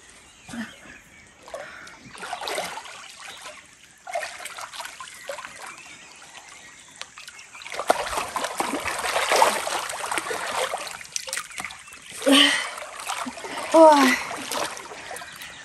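Water splashing and trickling into a newly bought backyard pool, coming in uneven bursts with quiet gaps between them, while people talk nearby.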